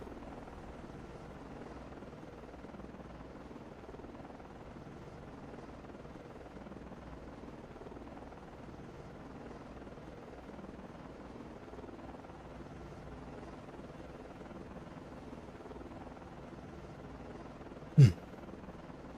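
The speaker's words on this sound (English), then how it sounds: "Let our helicopters kind of hover out here" Helicopters hover in the Cold Waters naval game as a steady, faint rotor drone with a low hum that barely changes, broken near the end by one sharp brief click.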